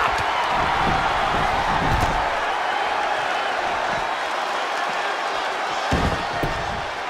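Arena crowd noise at a Raw wrestling match between Chelsea Green and Dana Brooke in WWE 2K20, a steady roar of cheering throughout with a couple of thudding slams, under a commentator's voice.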